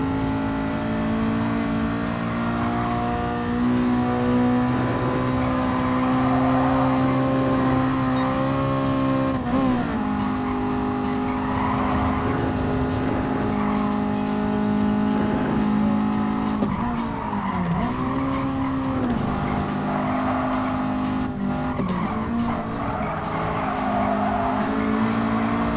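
Race car engine in Gran Turismo Sport at the Nürburgring, revving hard through the gears toward VTEC with tire squeal, loud and continuous, rising and dipping as the car shifts and brakes.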